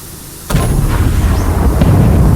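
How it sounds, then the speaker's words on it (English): Explosion in a game session, a sudden loud boom bursting in after a quiet start and followed by a sustained heavy rumble, with a second thump later on. "Did you hear that? It sounded like an explosion."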